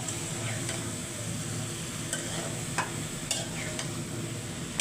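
Raw and pureed tomatoes fry steadily in a pot, a continuous close sizzle broken by regular clinks and scrapes of a spoon stirring through them, with no talking.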